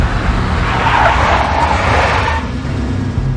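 Tires of a big black Mercedes skid loudly in the Max Payne video game, a sustained screech over low engine rumble that fades slightly near the end.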